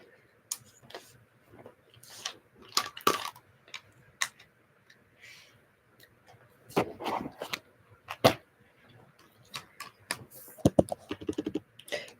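Fingers type a chat message on a computer keyboard, bursts of quick clicky keystrokes separated by short pauses, close and fairly quiet with no talking.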